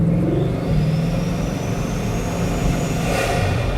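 A Chiron open-top hypercar accelerates hard with loud, steady induction roar close by, a thin whine rising in pitch over the deep engine rumble for the whole stretch.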